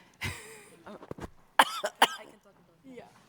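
Several sharp coughs in short bursts, close to the microphone, with a few brief murmurs of speech between them.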